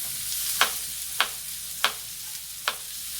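A knife slices through potatoes for a Swedish Janson's Temptation bake. Four crisp, evenly spaced cutting strokes stand out close up over a steady background hiss.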